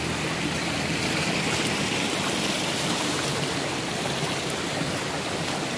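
Floodwater runs across an asphalt street in Kampung Bugis, Tarakan, after two or three hours of rain, making a loud, constant rushing wash like a stream, close by and unbroken with no talking.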